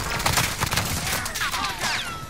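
Rapid gunfire in a video game, a dense burst of shots that runs through the whole short moment at fairly close range.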